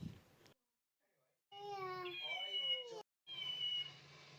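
A pet cat meowing up close, one long drawn-out, wavering meow followed by a shorter call, with brief pauses of silence between.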